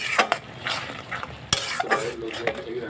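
Fried potatoes being stirred into a spiced masala in a pan: repeated spatula scrapes and clinks against the metal over a soft sizzle, with one sharper knock partway through, close and fairly loud.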